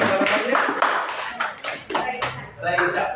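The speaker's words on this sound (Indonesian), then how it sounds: "Tepuk tangan sekali lagi." Classroom audience clapping during a training session presentation, several uneven bursts of hand claps close by, mixed with talking voices.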